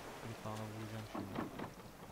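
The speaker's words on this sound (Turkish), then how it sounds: "Yağmur yağmış." Rain falls steadily in the survival video game Raft, with a low thunder rumble beneath a broad wash of patter and some sustained game tones, all continuous and moderately loud.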